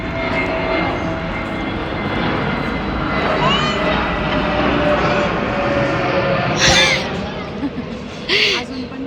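An airplane passes overhead in an outdoor suburban setting, a loud continuous engine roar throughout, with people talking underneath.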